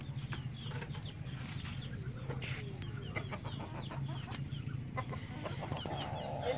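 A chicken clucks near an outdoor open-air kitchen in a Ugandan village, with scattered faint clucks and bird calls over a steady, busy background hum of outdoor ambience.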